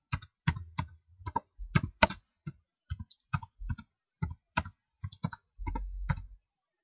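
Computer keyboard typing while entering labels in SPSS statistics software, a run of distinct key clicks in irregular bursts, close and fairly loud with no voices.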